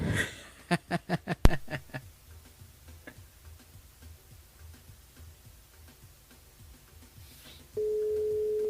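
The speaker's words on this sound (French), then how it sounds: "Ça sonne." During a French-language radio call-in show, a phone line clicks through a quick series of dial pulses, then goes quiet with faint ticking before a steady tone comes in.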